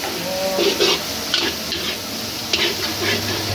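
Soaked soybeans are stirred in hot oil in a pan, giving loud, close scraping and clattering strokes over a constant frying sizzle.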